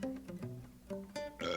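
A man burps loudly and close to the microphone, a series of croaking, voiced belches that break into a few rough bursts over under two seconds.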